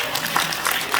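A seated audience at a Korean public policy forum claps in a short, brief burst of applause, moderately loud and slightly distant in the hall.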